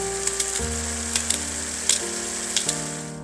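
Food fries in a pan with a steady, loud sizzle throughout, broken by a few small pops and the scrape of stirring.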